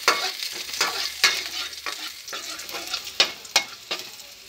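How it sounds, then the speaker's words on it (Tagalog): Garlic sautéing in hot oil, a bright, close crackling sizzle punctuated by repeated scraping strokes of a utensil stirring in the pan. "Lagay na natin yung bawang"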